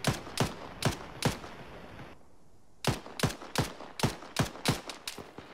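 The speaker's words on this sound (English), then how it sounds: "So I'm just gonna stand up and fire until I take fire." Rifle fire in the tactical shooter Arma 3: a run of sharp, loud single shots in an irregular rhythm. A brief pause interrupts them before the shots resume in quicker succession, each with a short echoing tail.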